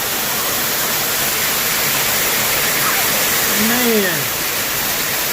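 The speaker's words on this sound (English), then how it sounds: "Check out some of these waterfalls." Waterfalls crash down into a forest cave system in a loud, steady broadband roar, with a man's brief exclamation near the end.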